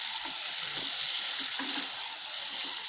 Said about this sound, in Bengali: এবারে এগুলোকে খুব ভালো করে ভেজে নেবো